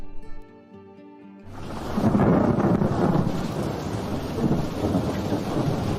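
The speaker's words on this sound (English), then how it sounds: "as soon as they left home, it started raining heavily" Thunderstorm with heavy rain: after a short quiet start, a deep thunder rumble rolls in and a dense, loud downpour roars steadily to the end.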